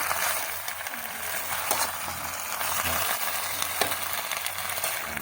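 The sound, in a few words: stirring food cooking in a pan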